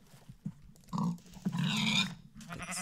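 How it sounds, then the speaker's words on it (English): Pigs in the Minecraft video game give a few soft grunts and one drawn-out oink, heard quietly and alone over a low background. "Oh, pigs. I'll take the pigs."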